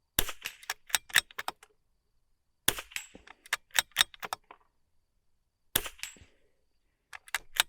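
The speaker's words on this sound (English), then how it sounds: "I'm going to engage both targets, just one after the other, and you can see the difference" Rimfire rifle shots striking steel spinner targets, fired in three quick volleys of several sharp cracks, each followed by a metallic ping from the hit, with silent pauses between volleys.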